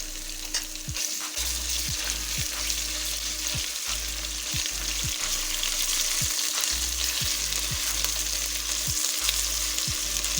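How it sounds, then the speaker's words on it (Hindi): Garlic and ginger paste fries in a pan while cooking palak beef gosht, giving a steady, close, loud sizzle with repeated scraping stir strokes throughout and no talking. "इसे भी हल्का हल्का फ्राई कर लेंगे।"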